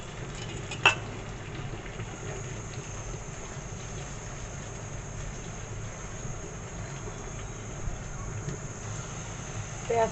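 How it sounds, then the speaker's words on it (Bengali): Onion and garlic frying in oil in a pan, a steady soft sizzle throughout with a couple of brief clinks of a utensil. "এখন পেঁয়াজ রসুনগুলো একটু ভেজে নেব"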